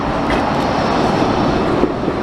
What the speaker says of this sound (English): a great view of a tram going past there.